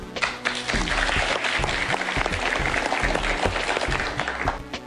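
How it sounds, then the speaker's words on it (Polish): Steady applause, a dense even wash of clapping at moderate level throughout, with no voices over it. "Wielkie brawa!"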